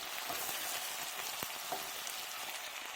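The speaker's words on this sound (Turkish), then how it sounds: "Evet şimdi biberlerimi koydum. Acı biber görüyorsunuz. Kavuruyorum." Soft, steady sizzle of hot peppers sautéing in a pan, a faint crackling hiss with a few light clicks and no voices.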